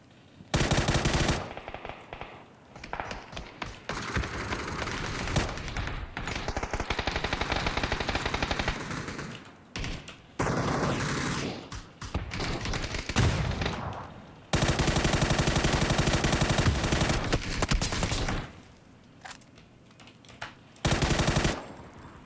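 Rapid automatic gunfire in a video game comes in long loud bursts separated by brief pauses, dense and continuous through most of the stretch.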